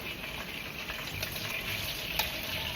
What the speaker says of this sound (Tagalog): So next natin yung ipiprito is yung ating patatas, carrots at yung ating saging taba.